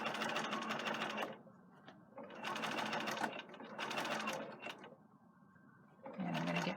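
Sewing machine stitching twill tape around a garment neckline, running in three loud bursts separated by short pauses, close up, with no talk.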